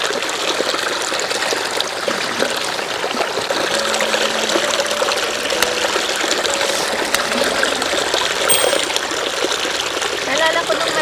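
Mountain stream water in Norway rushes and trickles continuously over rocks, a broad, bright wash of flowing water close by, with voices faintly present beneath the steady splashing.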